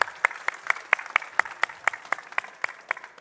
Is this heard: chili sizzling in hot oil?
no